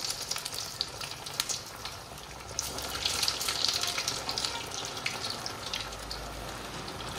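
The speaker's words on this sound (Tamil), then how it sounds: "இப்போ இதை அப்படியே எண்ணெயில் போட்டுடலாம்." Bread snacks fry in hot oil with a steady crackling sizzle, close and continuous, rising slightly in intensity midway through with no talking.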